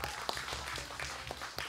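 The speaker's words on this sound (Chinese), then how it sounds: "要记得掌声" Audience applause for band members at a concert, a steady wash of scattered claps with a few sharper hand claps standing out, fairly close and moderately loud.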